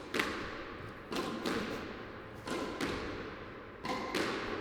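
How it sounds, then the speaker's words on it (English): A squash ball hit with slice during solo drills on a court, four sharp racket strikes and wall impacts at regular intervals, each echoing briefly in the enclosed space, loud and close. "I'm looking to impart a little slice on the ball so that I can make it go to the back and then drop down and stay down when it bounces."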